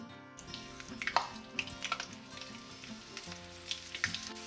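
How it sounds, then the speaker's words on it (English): Onions sizzling and crackling in hot oil over medium-high heat, a steady frying hiss with scattered pops, fairly quiet under a low background hum. "Let it really get hot so the onions fry up quickly."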